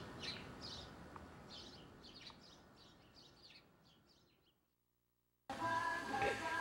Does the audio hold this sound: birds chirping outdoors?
yes